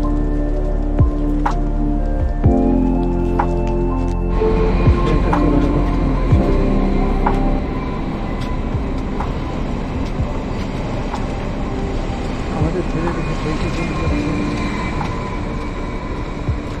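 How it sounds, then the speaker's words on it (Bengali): A train rolls steadily through a station in Switzerland, loud rumbling and clacking with squealing tones, the roar easing slightly partway through. "এই ট্রেনটা আমাদের না, পরের ট্রেনটা আমরা ধরতে পারবো।"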